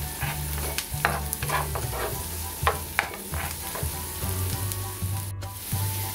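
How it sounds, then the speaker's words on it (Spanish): Onion browning in a pan before tomato and squash go in, sizzling steadily up close while a spatula stirs and taps against the pan at intervals. "Ya se está aquí dorando la cebollita para después agregarle el jitomatito y las calabazas."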